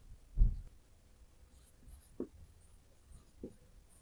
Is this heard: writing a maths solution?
yes